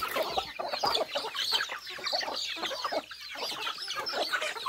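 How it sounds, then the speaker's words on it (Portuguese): Many chickens cluck together while pecking at thrown corn on an early-morning smallholding, a busy, continuous chorus of overlapping clucks close by with no talk. "que monte de galinha"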